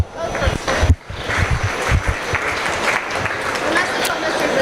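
At a swine show, a crowd gives sustained applause for a pair of crossbred breeding gilts, a dense, noisy wash of clapping with some wind noise and an announcer speaking over it.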